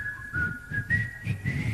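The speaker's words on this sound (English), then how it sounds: "I'm going to whistle, and then I'm going to ask you to whistle" A man whistles a short tune alone, a clear sustained melodic tone with small pitch steps and a faint low hum of room or stage noise beneath.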